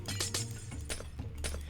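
Glass barrier shattering and breaking apart as it is removed from a zoo exhibit fence in the Wildlife Park video game, a few bright crashing bursts with clinking over a low steady game hum.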